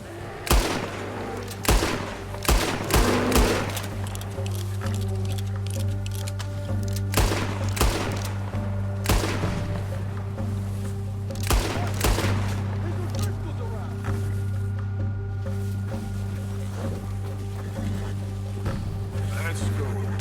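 Gunfire in the western game Red Dead Redemption, several sharp shots spaced irregularly over a steady low hum, with characters' voices talking between the bursts.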